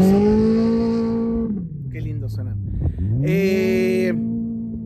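A Dakar Rally car engine revs loud and close, its pitch sliding down, dipping and then climbing again in a strong sustained drone, with a brief high whine partway through.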